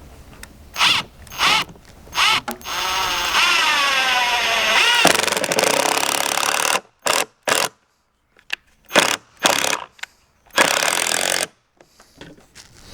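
Screws are driven into a wooden garden bench with a power drill, a long whirring buzz followed by several short bursts of drilling, loud and close with pauses between.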